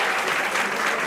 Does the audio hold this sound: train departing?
no